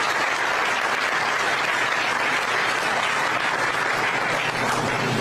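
Dense, loud audience applause fills a large hall at a VinFast event, an unbroken roar of many people clapping at once that holds steady from start to finish.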